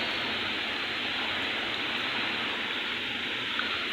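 Heavy stormy rain pours down in a dense, unbroken hiss, steady and close, with no voices heard.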